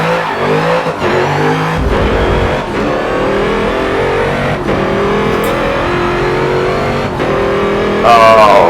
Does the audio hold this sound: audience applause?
no